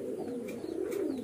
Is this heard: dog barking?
no